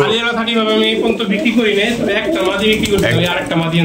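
Pigeons coo in soft, rolling calls close by, while people talk over them.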